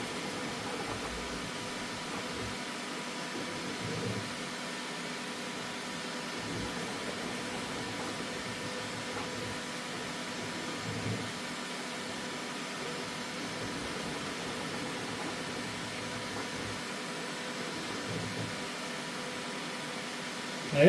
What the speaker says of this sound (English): the fan noise you're hearing is on the Elegoo